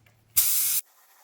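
Close by, a single spray-can burst of about half a second lays coating onto the cab corners of a 2013 Ford F150, a sharp, steady hiss that begins and stops abruptly.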